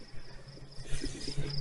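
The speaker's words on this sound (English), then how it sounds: "I found the exact cricket that was making the noise." A single cricket chirps close by in a cemetery in Keene, New Hampshire, a thin high trill pulsing steadily over faint outdoor background.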